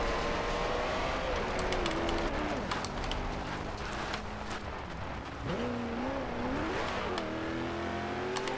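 A 2011 Koenigsegg Agera engine in the Forza Horizon 2 racing game revs and shifts, its pitch sweeping up and dropping with throttle changes, loud and up front with a voice over it.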